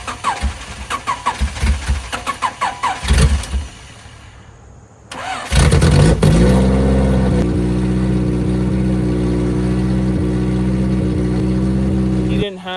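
The engine of a B20V-swapped EK coupe cranks and catches partway through, after metallic clanking and some talk, then settles into a loud, steady, rumbling idle close by.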